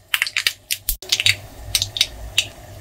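Mustard and fenugreek seeds spluttering in hot oil while tempering for an outdoor home-cooked dish, a string of sharp irregular pops and crackles, close and crisp, with a brief louder clatter midway.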